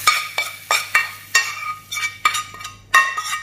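Mango pickle masala is stirred in a metal pan with a spoon, giving repeated scraping clinks about every half second under a steady low hum, close and fairly loud, with no talking.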